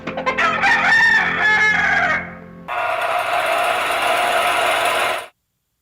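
A rooster crows loudly and close, one long cock-a-doodle-doo with a strong harmonic call that fades near the middle, followed by a few seconds of a rough, buzzy, sustained noise before an abrupt cut to silence.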